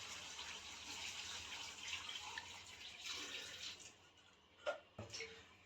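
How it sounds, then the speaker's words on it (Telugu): Water poured into simmering homemade chicken curry in a pot, a steady watery splashing rush for several seconds, then tapering off with a few brief knocks and drips. "సూప్కి అయితే ఇందులో కలిపిన వాటర్ అయితే యాడ్ చేస్తున్నాం."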